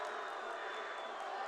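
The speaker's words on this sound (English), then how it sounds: "Nobody in the crowd likes that one" A high school basketball crowd in a gym reacts unhappily to a foul call, a steady dense murmur of many voices filling a short moment without clear cheers.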